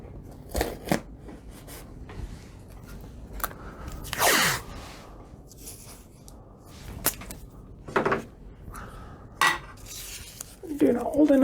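A knife slicing through material along a marked 4mm line during banner painting, with a few short cutting strokes and scrapes at close range, separated by brief pauses, plus a louder sweep partway through.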